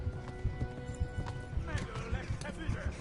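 A horse gallops in Kingdom Come Deliverance, with rapid rhythmic hoofbeats under faint whinnying and game sounds, while a voice talks over it.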